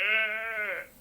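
A goat bleats once, a close, loud, wavering cry lasting under a second, then fading, with no other sound around it.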